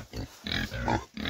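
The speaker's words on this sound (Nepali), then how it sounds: "म चाहिँ सुँगुरलाई चारो लिएर आइसकेको छु यहाँ सुँगुर चाहिँ एउटा दुईवटा छ" Pigs at feeding time, giving several close, rough grunts in quick uneven bursts with short gaps between them.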